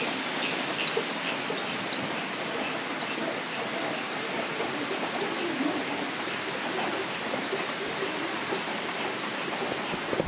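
Heavy monsoon rain pouring steadily over a forested hillside in South Sikkim, a dense, even roar of broadband hiss with no breaks, close and loud throughout.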